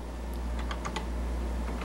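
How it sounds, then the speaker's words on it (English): Keys clacking on a Color Computer keyboard as a command line is typed, a short run of quick, light taps at close range over a steady low hum. "A quick way to see them is to type in this command line."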